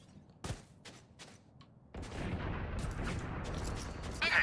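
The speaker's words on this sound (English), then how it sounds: "Watch out. Swarm grenade." Killjoy's swarm grenade erupts in Valorant. A few sharp pops give way to a dense, sustained crackling burst of rapid small detonations that continues loudly to the end.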